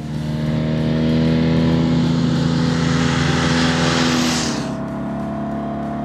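A 1620cc Porsche 356 race engine of roughly 135 horsepower holds a loud, steady drone close by, then its pitch drops and settles into a lower idle-like hum.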